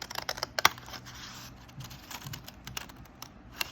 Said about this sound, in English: And then the next one, I'm going to cut again.